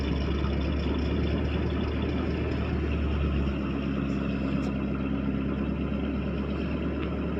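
A 1987 Chevy Suburban V20 with a 350 small-block V8 idles steadily just after a cold start, a loud, continuous low rumble; partway through, the idle settles slightly lower and smoother.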